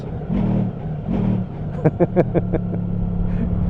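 A Honda CBR motorcycle accelerating abruptly on a sunny autumn ride: a steady close engine hum breaks into a quick run of sharp, pulsing revving bursts, then settles back to a drone.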